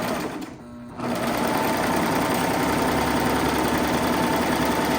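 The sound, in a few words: serger sewing machine serging off fabric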